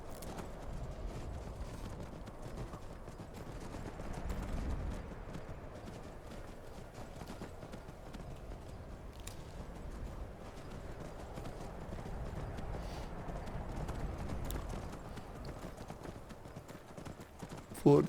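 Steady galloping horse hooves in Skyrim, a fast rhythmic clip-clop, continuous and fairly close, with a brief louder burst at the very end.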